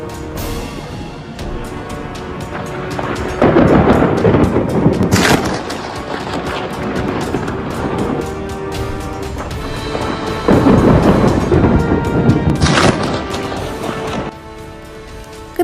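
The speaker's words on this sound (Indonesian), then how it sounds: "Ngeri banget ya sambaran petirnya." Two heavy rumbling booms of thunder from a lightning strike roll out several seconds apart over a constant noisy background, each with a sharp crack near its tail.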